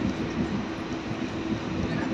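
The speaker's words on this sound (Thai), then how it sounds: "ตอนนี้เราก็นั่งรถไฟนะรถไฟฟ้าสายสีทอง ไปไอคอนสยาม" Riding inside Bangkok's small two-car Gold Line electric train toward Iconsiam, a steady loud rumbling hum of the moving carriage fills the whole stretch, with a voice faintly under it.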